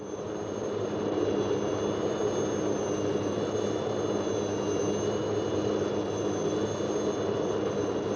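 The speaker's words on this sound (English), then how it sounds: "the helicopter goes on to complete its mission" A steady, droning aircraft engine roar with a high whine on top, continuous and moderately distant, with no talking.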